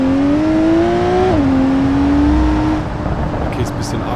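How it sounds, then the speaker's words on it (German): Engine of a high-powered car drifting in BeamNG.drive, a loud, steady motor whine that climbs, drops sharply, then climbs again before settling into a rougher hum. "Aber Driften geht gut."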